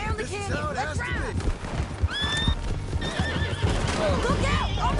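A horse whinnies loudly amid steady clip-clopping hooves, with shouting voices and busy action around it, close and intense throughout.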